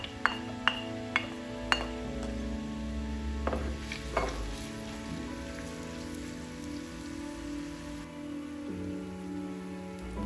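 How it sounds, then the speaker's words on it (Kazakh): Onions frying in sunflower oil in a hot pan give a steady, close crackling sizzle, with a few sharp clinks of a utensil against the pan early on. "Қызып тұрған табағымызға күнбағыс майын құямыз және ең бірінші пиязымызды 3 минуттай сары түске дейінше қуырып аламыз."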